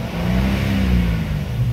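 Nissan petrol car engine held above 5000 RPM after a throttle pedal sensor repair, a loud, close, sustained high rev with steady harmonic whine and slight swelling in intensity.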